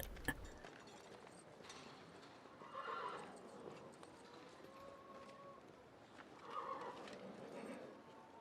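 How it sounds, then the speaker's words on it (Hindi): Barbary horses outdoors whinny twice, each neigh rising and falling, while hooves clop at a moderate pace beneath a steady rustling background. "ये घोड़े बर्सियन हैं।"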